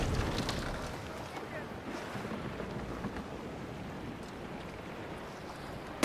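Wind fills the sails of a sailing ship in Assassin's Creed Black Flag, a constant blustery rush mixed with sea wash and faint creaks, steady and moderately quiet.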